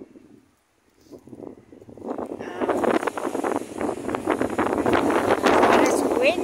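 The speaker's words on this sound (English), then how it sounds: "It's windy." Strong wind at a Karoo guest farm gusts against the microphone, rising from near quiet into a loud, continuous rushing roar that keeps building, with a voice heard faintly at the start.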